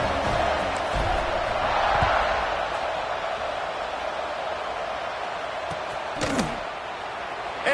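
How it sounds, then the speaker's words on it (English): Football stadium crowd at Michigan vs Ohio State keeps up a steady, loud roar and buzz throughout, with a brief sharper swell of noise near the end. "this crowd is buzzing after that last score"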